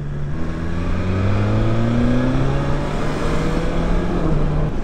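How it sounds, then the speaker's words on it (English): Road traffic heard from a motorcycle, with engines droning and shifting pitch in rising and falling tones, a continuous close mechanical hum with no talk. "Just traffic absolutely everywhere down here."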